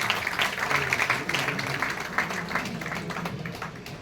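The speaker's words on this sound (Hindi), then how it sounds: "एक बार तालियां बजाएं आप सभी।" Audience applauding at an award ceremony and book launch, steady moderate clapping throughout the few seconds, somewhat distant and roomy.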